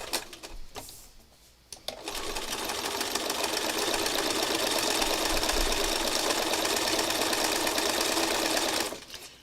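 Sewing machine stitches fabric scraps in one loud, continuous run of rapid mechanical chatter lasting several seconds, with brief starts and stops before and after.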